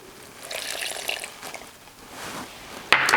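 Vinegar pours into a food processor holding chili powder, garlic and salt, making a light splashing trickle that rises, fades, then ends with a brief sharp clatter, close by with no talking.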